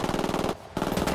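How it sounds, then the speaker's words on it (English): Rapid automatic machine-gun fire in Ghost Recon Wildlands gameplay: two dense bursts of loud, close shots split by a brief pause. "Open fire."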